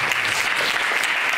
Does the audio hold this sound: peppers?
no